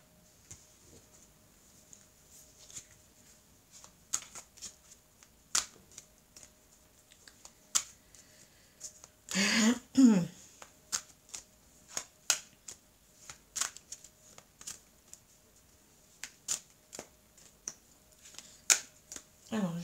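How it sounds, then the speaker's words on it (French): Oracle des Miroirs cards are handled and shuffled, with scattered soft clicks and flicks and one denser burst of riffling midway, close and quiet in a still room. "Je vais prendre donc les cartes de l'oracle des miroirs."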